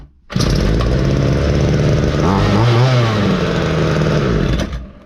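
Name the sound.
Ryobi petrol string trimmer engine running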